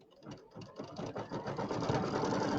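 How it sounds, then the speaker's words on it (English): A sewing machine sews a placement and trimming line on a pieced birdhouse quilt block, starting with stuttering stitches that quickly settle into a steady, fast mechanical hum. "we're going to sew out our placement and trimming line"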